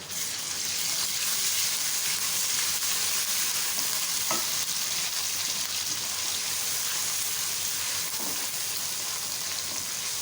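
Garlic, ginger and green chili sizzle steadily in frying onions for aloo pulao, a constant crackling hiss with a couple of soft stirring knocks.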